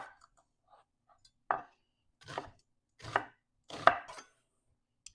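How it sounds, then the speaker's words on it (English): A knife chops onions on a board in four or five distinct, fairly close strokes spread over a few seconds, with quiet gaps between them. "I'm going to chop the onions"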